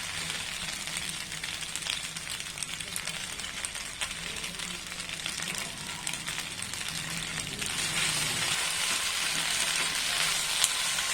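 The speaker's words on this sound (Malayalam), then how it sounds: "മല്ലിയിലേക്ക് ചേർത്ത് നന്നായിട്ട് നമുക്ക് മിക്സ് ചെയ്തെടുക്കാം" Macaroni being stirred with fresh coriander leaves in a frying pan, giving a steady close sizzle with soft scraping stirs that grows slightly louder toward the end, with no talking.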